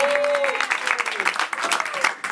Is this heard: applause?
yes